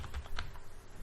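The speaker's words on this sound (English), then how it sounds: "We have to type out" Quick, light keystrokes on a computer keyboard as a web address is typed, a short close run of soft clicks.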